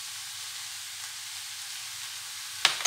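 Parsley sautéing in a pan gives a soft, steady, close sizzle, with a brief utensil clatter near the end.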